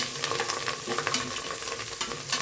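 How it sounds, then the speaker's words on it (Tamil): Onions frying in a pan for tomato rice, a dense, fairly quiet crackling sizzle with frequent small stirring clicks throughout and no voices. "ஆனியன் பாருங்கள் நல்லா ஃப்ரை ஆகிட்டுருக்கு"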